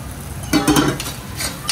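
Coarsely ground garam masala dry-roasting in a pan, with a few brief scraping stir strokes heard close up and a faint sizzle underneath.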